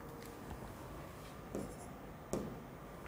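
Marker or chalk writing on a board during a chemistry lesson, a soft continuous scratching and rubbing with two sharper taps near the end, close and quiet, with no talk.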